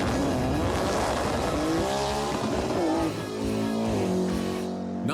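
A Nissan GTR performs a burnout at a quarter-mile drag race in Chicago, its engine revving hard and rising in pitch under continuous loud tire squeal, then easing off near the end.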